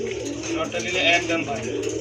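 A jet-black male Danish pigeon with a thick beak coos at a bird market, its soft murmuring calls running under steady close talking throughout.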